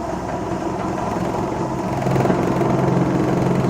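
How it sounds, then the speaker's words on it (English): A small DC motor runs at high speed with a steady buzzing whine and a shaky vibrating rattle, growing slightly louder partway through, close and without speech. "I will have to hold the DC motor, because it is going to start running at a really high speed and it will get all shaky"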